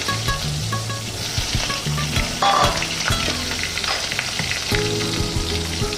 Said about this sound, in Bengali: এবার আমি তেলের মধ্যে দিয়ে দিচ্ছি গোটা জিরা ফোড়নে আর আলুটাকে আমি